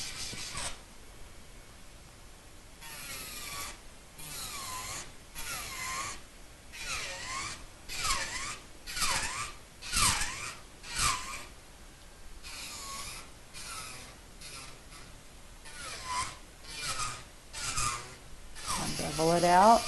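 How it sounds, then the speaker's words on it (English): Electric nail drill filing an acrylic nail, drilling out the smile line and beveling the free edge before a color change; a faint, steady grinding rasp with repeated short passes, fairly quiet and close throughout. "You're just drilling out that smile line and beveling out the free edge"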